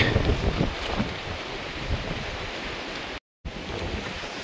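Strong gusting wind buffets the microphone on a Himalayan mountain trail, a dense continuous roar that is loudest at the start, broken by a momentary dropout near the end.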